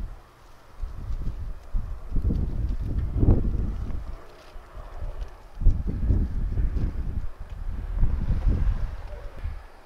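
Blustery outdoor wind buffeting the microphone in gusts, rising and falling in low rumbling bursts throughout, with no talk.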